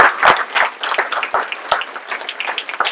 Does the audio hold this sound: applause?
yes